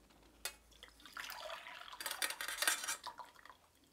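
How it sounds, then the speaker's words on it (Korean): Water from boiled jujube seeds is strained, a close mix of pouring liquid, trickling and light clinks of a metal pot and utensils over a few seconds. "주씨 끓인 물이 다 맛있게 우러났어요. 그래서 이걸 걸러 보겠습니다."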